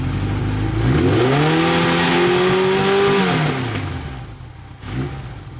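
A motorcycle engine runs and revs, climbing in a smooth sweep, holding high, then falling back toward idle with a brief blip near the end; loud and close, no talk.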